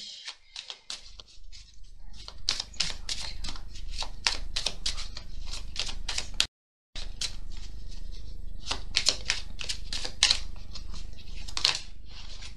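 Belline oracle cards being shuffled and drawn, a rapid run of crisp riffling flicks and slaps, close and loud, with a brief full stop midway before the card handling resumes.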